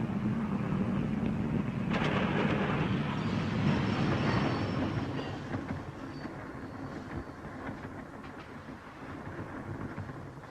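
A low, continuous rumble of a train rolling on rails, loud and steady at first, then easing slightly while the rattling drone continues.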